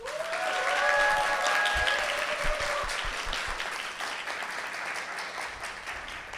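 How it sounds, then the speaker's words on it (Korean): Audience applause opening a book concert celebrating a political book launch, steady clapping rising early then holding, with a brief tonal whistle or feedback tone in the first seconds. "여러분의 열화와 같은 박수로 시작하겠습니다."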